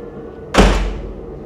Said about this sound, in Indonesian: tadi sempat terbanting ini pintu seperti ini